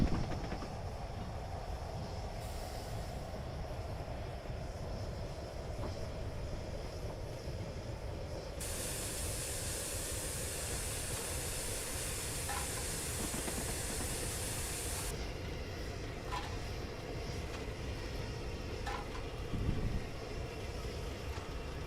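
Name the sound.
Flying Scotsman steam locomotive running in Train Simulator Classic video game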